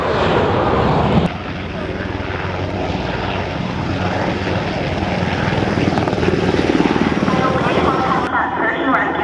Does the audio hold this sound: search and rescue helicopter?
yes